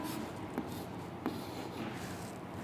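Marker or chalk scrapes on a board during a chemistry lesson, a faint steady scratching with two brief sharper taps where strokes start.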